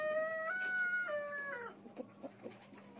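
A large Fayoumi rooster, over 4 kg, crows once on a farm with a clear, drawn-out call, followed by a few soft, scattered clucks from the flock.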